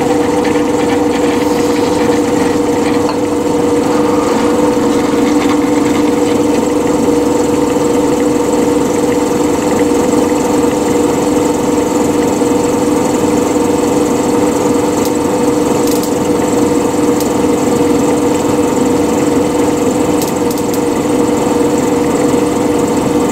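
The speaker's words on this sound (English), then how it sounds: "we're just going to run a pilot drill of 6 millimeters through that" A power drill bores a 6 mm pilot hole with a blunt, unsharpened bit, a loud steady motor whine and grinding that runs continuously and close up without pause.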